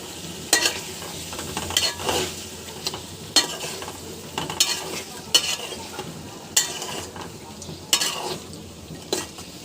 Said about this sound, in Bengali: মশলার সঙ্গে মাংসটা খুব সুন্দরভাবে মিশিয়ে নিব।